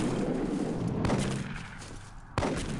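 Gunfire in the UFO Aftershock game, with dense, continuous shooting noise and two sharper shot impacts standing out, close and fairly loud throughout.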